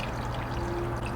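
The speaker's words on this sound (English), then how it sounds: "I add the water." Steady stream of water poured into coconut milk while making a spicy Thai peanut sauce, a continuous close splashing pour with no talk.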